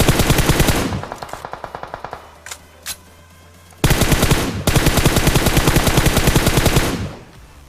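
Rapid bursts of automatic gunfire in the video game PUBG, on the Miramar map, rattle loudly in quick succession, with a brief pause and a couple of single shots between the long volleys.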